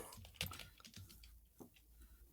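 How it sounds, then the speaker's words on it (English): Quiet clicking of keys on a computer keyboard, typing in short irregular bursts at a distance under a low background hum. "Jamal, what you typing up over there?"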